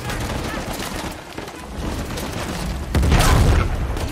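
RPG explosions and rapid gunfire in the video game Uncharted: The Lost Legacy, a dense continuous barrage capped by a louder booming blast near the end, with a voice speaking over the action.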